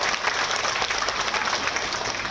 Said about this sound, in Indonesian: tepuk tangan buat Pak Dev Laksono